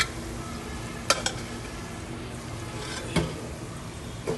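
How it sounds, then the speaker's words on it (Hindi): Pea greens saag being added and stirred in a pot over a wood fire in a village kitchen, with a low sizzle throughout and a few sharp clinks of a spoon against the pot. "मम्मा इसके अंदर डाल रही हैं साग"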